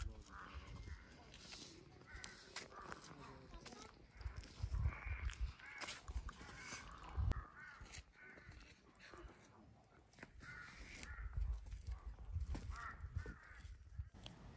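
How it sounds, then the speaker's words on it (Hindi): Crows caw intermittently around a quiet Himalayan temple at Hatu Peak near Narkanda, Shimla, with other birds faintly chirping under steady wind-like outdoor ambience. "चिड़िया और कौए के सिवा किसी की आवाज़ नहीं सुन रही"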